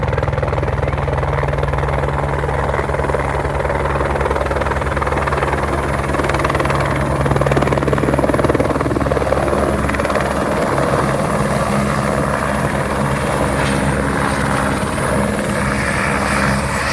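Loud, steady thumping drone of a helicopter nearby at a helipad in the Himalayas, its rotor and engine roar continuous throughout.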